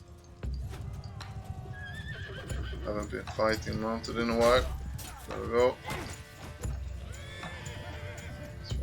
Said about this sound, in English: Too many horses all over the place.